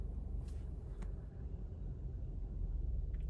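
Steady low cabin rumble with a faint wind rush while driving a 2024 Subaru Crosstrek at altitude on an open road, continuous and moderate in level with no talk.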